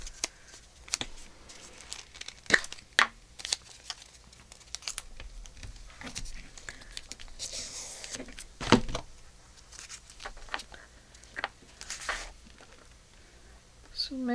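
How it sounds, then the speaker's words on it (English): Washi tape handled for a handmade journal insert: scattered light crinkles, small rips and paper taps, close and fairly quiet, with sparse irregular bursts. "I'm going to stick a little washi tape under it"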